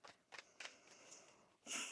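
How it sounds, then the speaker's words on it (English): Tarot cards are shuffled in a few soft riffling bursts, then a louder, denser shuffle at the end, quiet and close with no talking. "One more shuffle here, please, and thank you."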